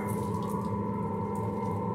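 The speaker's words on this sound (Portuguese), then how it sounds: "Bora encher essa garrafinha de água." Water runs steadily into a small bottle beside a snack griddle being cleaned, a continuous close trickle with a faint rising fill tone and no talk.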